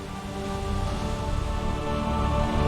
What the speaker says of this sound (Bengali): প্রবল বৃষ্টি নামছে